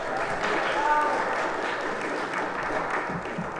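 Audience applause for a speaker at a Pride and allyship talk, a steady wash of clapping through the whole stretch with crowd voices mixed in underneath.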